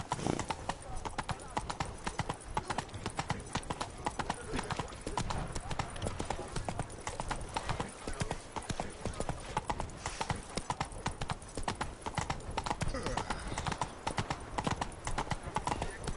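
Roach, the horse in The Witcher 3, gallops in a steady rapid clip-clop of hooves that lasts throughout, loud and close against a dense game soundscape.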